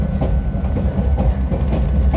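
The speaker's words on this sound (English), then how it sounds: "This is probably one of the few live streams ever taken on a moving train." Steady rumble and clatter of a moving excursion train heard from onboard on a Georgia shortline, with low wheel-on-rail drone and faint rhythmic clicks running continuously and fairly loud throughout.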